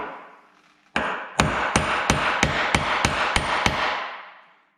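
Nine heavy hammer blows strike in a steady rhythm, driving a piece of wood onto a wood lathe spindle in a workshop, each a sharp close wooden knock with a short ringing tail.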